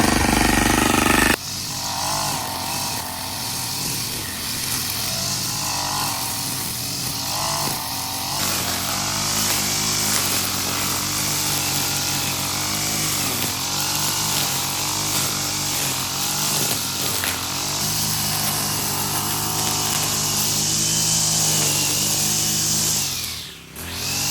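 A grass cutter's small engine runs continuously at a high, buzzing whine, revving up and down slightly before cutting off at the end.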